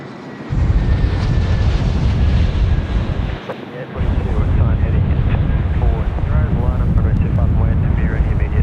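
Embraer Phenom 300 business jet at Sydney Airport on a windy day, a loud steady jet roar filling the whole stretch, dipping briefly once, with voices talking over it.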